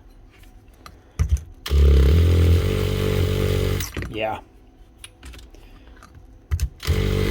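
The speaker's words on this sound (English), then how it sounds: "Just test that in hammer mode." A Dewalt hammer drill runs in hammer mode, its gearbox housing jammed in hammer mode, as a loud, steady mechanical whir lasting about two seconds, followed by a quieter rattle, with a brief word spoken nearby.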